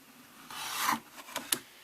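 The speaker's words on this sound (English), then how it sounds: "Let's take the tape off and open the mold." Tape peeled off a silicone casting mold for 1:25 scale steel wheels, a soft close rasping rub swelling for about half a second, then two short sharp tearing snaps.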